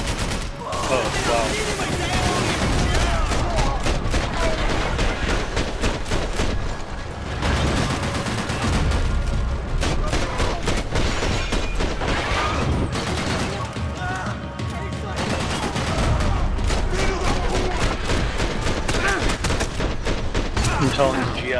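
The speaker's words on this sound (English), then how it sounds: "That guy's got armor and a belt-fed machine gun." In Max Payne 3, a belt-fed machine gun fires long, rapid bursts up close and loud, broken by short pauses amid other gunfire, with a brief spoken exclamation over it.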